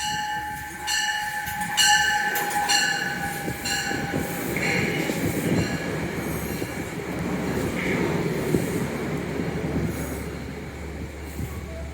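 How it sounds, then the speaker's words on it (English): A Metro North train on the Hudson Line at New Hamburg rolls past with a Conrail heritage unit trailing, its loud rumble mixed with squealing wheels and a brief horn-like tone, with no talk over it. "Conrail Heritage Unit is going to be trailing this one."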